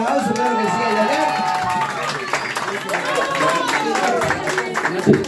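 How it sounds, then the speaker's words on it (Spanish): Clapping and cheering at a child's birthday party with a mariachi band, hands applauding amid excited crowd voices and lively chatter, with shouts and overlapping talk throughout. "¡Ay, el aplauso!"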